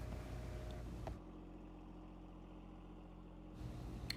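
A John Deere 1025R compact tractor with a quick-hitch front plow pushing snow, its engine running at a steady mid-pitched drone that briefly eases off before picking back up.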